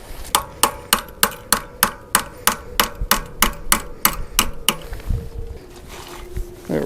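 A dozen or so sharp hammer blows in an even rhythm, close and loud, then they stop and quiet rustling follows.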